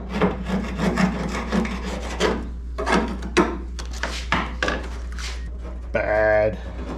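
Scraping and rubbing as material is peeled off the rusted quarter panel of a 1967 Ford Mustang, a run of close irregular rasping strokes with a brief harsher burst near the end.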